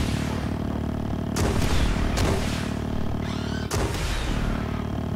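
Several sharp blasts and booms from a Stinger rocket launcher in the video game The Front fire over a dense, constant backdrop of game noise, with two or three distinct loud reports.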